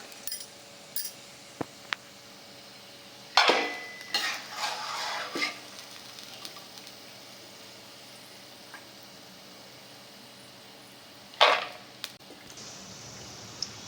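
Moong dal fries in oil in a pan with a quiet, steady sizzle, broken by a few sharp spoon scrapes and metal clatters, with no voices.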